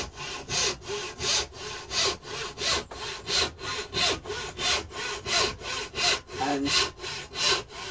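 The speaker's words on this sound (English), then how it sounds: "cuts that hardwood as if it was a lump of cheese" A Skelton Saws Peters/Squire hand saw cuts through hardwood in steady, even rasping strokes, roughly two per second, close and clear. A single spoken word barely breaks the rhythm.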